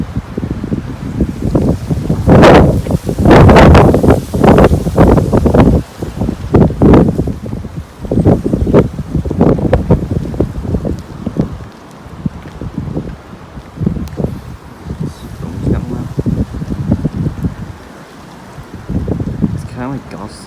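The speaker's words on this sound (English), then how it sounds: "Kind of like gusts, it's like every so often, like every 30 seconds, really strong gusts." Strong gusts during Storm Ciara batter the microphone in repeated heavy roaring bursts with rain, loud and close, surging and easing every few seconds throughout.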